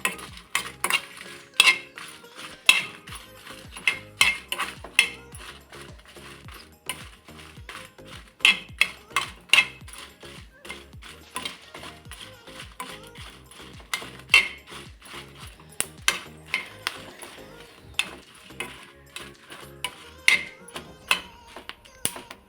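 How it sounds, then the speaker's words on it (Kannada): Metal utensils clink and scrape against a pan as spicy chillies are added and roasted at home for bisibele bath powder, with sharp, irregular taps and knocks recurring throughout, fairly close and steady. "ಇವಾಗ ನೋಡಿ ಮೆಣಸಿನ್ಕಾಯಿ ಹಾಕ್ತಾಯಿದ್ದೀನಿ."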